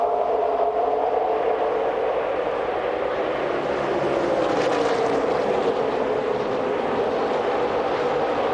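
NASCAR Craftsman trucks accelerate on a race restart at Kansas, a steady, dense engine roar from a pack of trucks whose pitch slowly rises and swells, loud and continuous with no talk.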